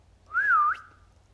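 A single clear whistle, a boy's special whistle at a back door calling his sniffer hound, rising and then dipping in pitch over about half a second before a brief upward flick at the end.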